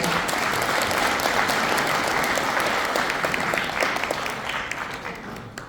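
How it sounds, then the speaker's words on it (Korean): An audience at a lecture event applauding steadily, dense clapping that holds strong for several seconds before gradually thinning toward the end. "여러분 힘찬 박수 부탁드리겠습니다."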